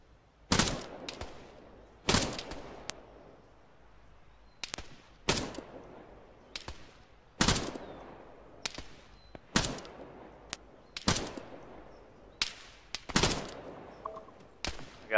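Rifle fire in the video game Arma 3, a bipod-mounted rifle firing sharp single shots at irregular intervals of a second or two, each with a short decaying tail and faint distant cracks between.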